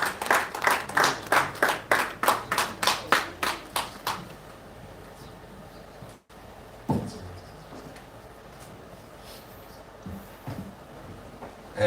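Applause from an audience at a law book presentation and launch, a run of loud, regular claps over the first four seconds that then fades into a quiet room with a few faint knocks and shuffles.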